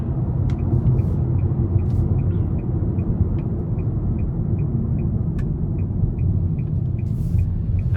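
Cabin noise inside a 2022 Nissan Sentra SR Premium compact car while driving is a steady low road-and-engine rumble. A faint, evenly spaced ticking repeats throughout and no one speaks.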